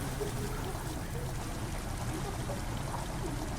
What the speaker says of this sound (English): Water's begun to slowly fill the chamber